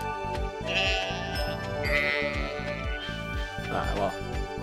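A sheep in the video game Stardew Valley bleats in a few short wavering calls over a steady rhythmic game melody, with a voice talking at moments.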